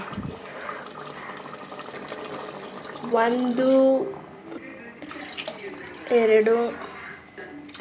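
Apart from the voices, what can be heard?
water poured from a glass into the chicken biryani pot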